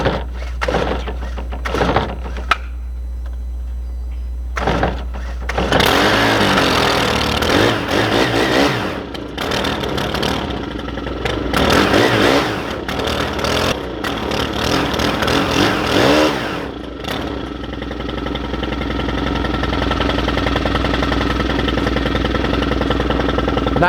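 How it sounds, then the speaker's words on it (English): A steel pole saw's small gas engine is cranked with a few sputtering pulls, then fires and runs loudly up close, revving and bogging unevenly while cutting old vines around a tree. "we're going to see how this works with the steel pole saw"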